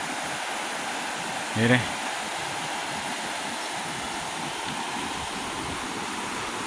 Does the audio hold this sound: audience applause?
no